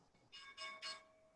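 A stock market opening bell rings three times in quick succession, bright metallic strikes that are fairly faint and close together, with nobody talking.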